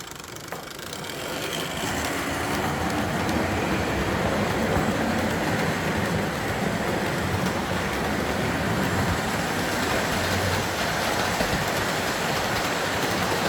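A model steam train pulling about 20 cars rumbles steadily along a Christmas layout track with a continuous mechanical whir and faint clicking of wheels, close by.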